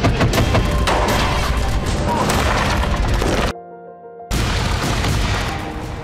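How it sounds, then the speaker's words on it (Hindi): Dense, continuous booming and gunfire roar through a war-zone scene in Russia's Belgorod region near the Ukraine border, loud and unbroken apart from a brief silent gap partway through. "हर तरफ बारूदी कोहराम मचा है।"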